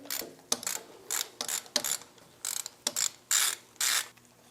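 A hand ratchet clicks in short, quick bursts, with brief pauses between strokes, close and fairly quiet, as it backs out the 5mm hex bolts holding the old pilot bearing on a Porsche 3.2 Carrera.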